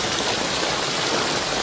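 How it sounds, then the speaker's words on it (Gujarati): Heavy floodwater rushing through a low-lying village area during torrential monsoon rain, a dense, steady roar of flowing water and downpour with no breaks. "અને પાણી પણ ખૂબ જ પ્રમાણમાં આવી રહ્યું છે."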